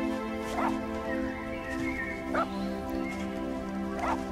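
A dog barks a few times in a French children's story about a dog and a hamster, short yips spaced out over steady background music, moderately near.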